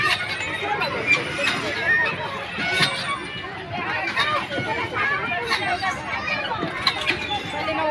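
Dense crowd chatter in a busy city garden, a steady babble of many voices with children's shouts and nearby talk mixed in.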